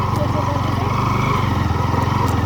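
A motorcycle engine running steadily up close, a loud, even rumbling drone on a muddy mountain road trip, without pause.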